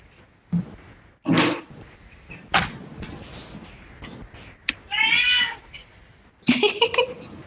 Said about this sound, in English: Oh, that's the cat.